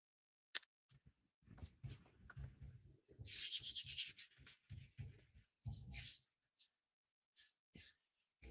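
Paper rubbed over a gelli printing plate gives soft, close, quiet scratchy strokes in short bursts separated by pauses.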